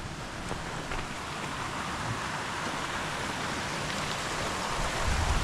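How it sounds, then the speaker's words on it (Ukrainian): A small mountain river in the Gorgany wilderness rushes with a steady, broadband hiss and roar. It stays constant and fairly close, with no speech over it. "Чую, десь тут шумить річка"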